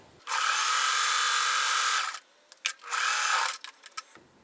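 A sewing machine stitches a quilt strip onto sashing in two bursts of fast, whirring motor noise with a short pause and a few clicks between them, recorded close up with no talking.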